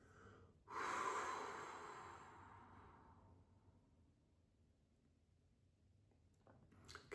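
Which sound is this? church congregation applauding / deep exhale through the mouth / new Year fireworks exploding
deep exhale through the mouth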